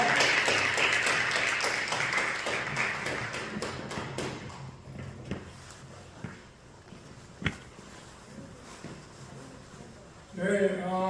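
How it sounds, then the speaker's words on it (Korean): Church congregation applauding after a violin performance at a worship service: dense clapping in the opening seconds that thins and fades, with a sharp tap partway through and talk resuming at the end. "박수 영광드립니다"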